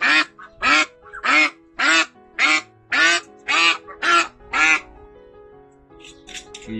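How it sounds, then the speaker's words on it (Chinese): A heavy farm female duck quacks loudly in a rapid series of about nine harsh, evenly spaced calls close by, then falls quiet with faint rustling. "哇，又是一只母鸭，好吵啊！"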